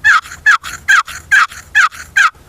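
A box call imitates a gobbler turkey yelp: six evenly spaced, raspy, loud yelps close up with clean gaps between them and no talk.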